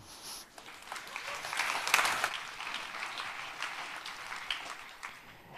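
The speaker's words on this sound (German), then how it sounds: "Einen ganz herzlichen Applaus." Audience applause at a Jugend Hackt Berlin 2019 youth hackathon presentation, moderate and steady for about five seconds, swelling slightly near the middle before settling into lighter clapping.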